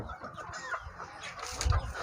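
Hens clucking in a small coop of egg-laying chickens, soft overlapping clucks close by with one louder cluck near the end.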